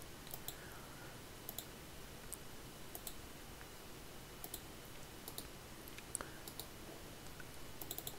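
Computer mouse clicks while working in CREO CAD software, faint, sharp single and double clicks at irregular intervals over a quiet background.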